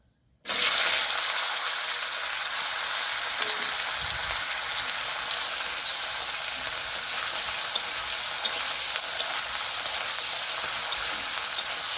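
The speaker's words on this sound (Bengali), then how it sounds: "এখন দিয়ে দেবো কেটে রাখা আলু।" Cut potatoes dropped into hot oil with black cumin seeds, for an aloo sajne data posto dish, burst into a loud, close sizzle that holds steady and hissing throughout with no voices.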